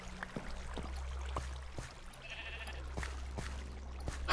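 A goat bleats faintly in the Minecraft video game, a few brief calls against a quiet low hum, with no talk.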